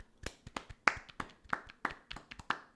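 About ten single hand claps spaced irregularly across a few seconds, sharp and close, each one distinct with no talking.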